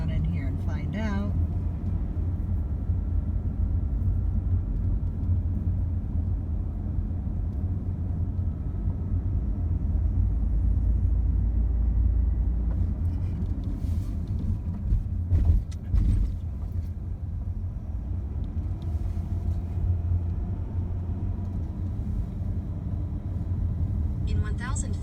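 A car rolls slowly into an RV park, its engine and tire rumble steady and close throughout, a low continuous drone with a few faint clicks and thumps near the middle.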